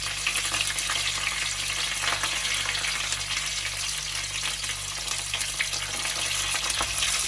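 Cumin and spices sautéing in hot oil for a Sri Lankan Jaffna-style mutton curry, a loud steady sizzle and crackle continuing without pause, close up, with no voices.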